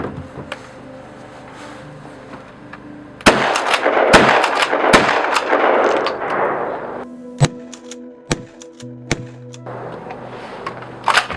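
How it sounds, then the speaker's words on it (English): A shotgun with a 26-inch barrel fires at night, several sharp loud bangs spaced out across the clip with ringing echo after the blasts, amid quiet outdoor background. "It's a shotgun, puts out a little bit of flame."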